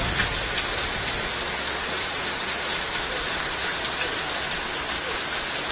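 Heavy rain pours steadily during a men's fours lawn bowls final, a dense, continuous hiss of drops hitting the ground with an even loudness throughout and no voices.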